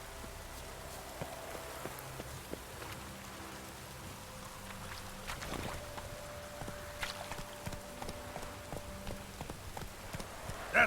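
Roach the horse's hooves clop steadily and faintly in The Witcher 3, set against a soft rain-like wash and quiet background tones.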